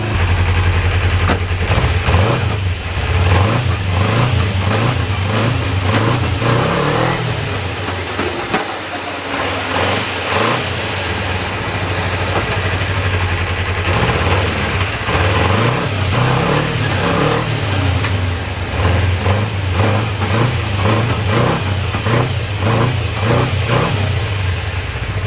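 A cold motorcycle engine idles while warming up, loud and close, with a steady low throb and repeated rhythmic pulses and surges, and no talk over it.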